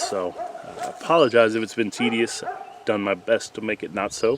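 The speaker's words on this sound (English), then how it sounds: "my long-term viewers know neighbor's dog does not like gunfire" A neighbour's dog barks and yips in short bursts close by, mixed in under someone talking steadily throughout.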